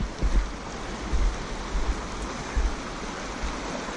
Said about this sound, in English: here's my first run in with the Cache Creek